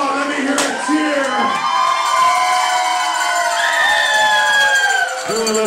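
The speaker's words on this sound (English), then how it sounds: "Why don't you give yourselves a big round of applause for what you just did? Come on, let me hear a cheer." An indoor crowd at Burlington's MapleView Mall cheers after a ride event, a loud mix of whoops, shouts and high children's voices rising and falling over several seconds, with applause buried in the din.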